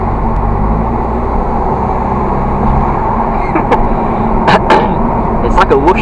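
A second-generation Audi TT is being driven, its cabin filled with a steady low engine and road drone, with a faint whooshing from the intake, while someone talks over the top.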